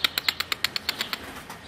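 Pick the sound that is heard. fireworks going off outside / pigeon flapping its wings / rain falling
pigeon flapping its wings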